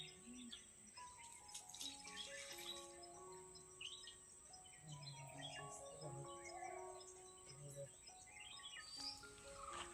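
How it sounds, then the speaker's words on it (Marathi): Several birds chirp and sing outdoors, overlapping whistled calls over a quiet background with a faint insect drone. "पक्ष्यांचा आवाज बघा"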